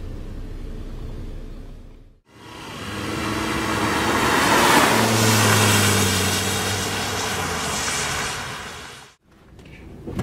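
Volvo S60 R sedan cruising on the road, a steady engine and road drone with low harmonic tones rising slightly as it gets underway, continuous and close, cut short near the end.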